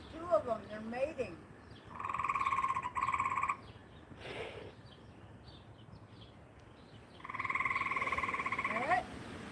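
Two mating tree frogs call outdoors in loud, sustained pulsed croaking bursts near the start and end, with faint background sounds between them.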